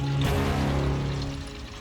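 Water pours steadily into a metal smoker pan holding oxtails, a continuous splashing trickle that fades slightly over a couple of seconds.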